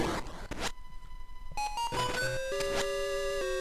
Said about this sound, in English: that sound you just heard was the sound of there being a secret chest or a key in this room